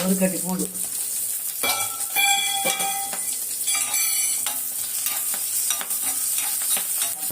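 Food sizzles steadily in a hot pan, with sharp pops and crackles scattered throughout and occasional clinks of a utensil against the pan.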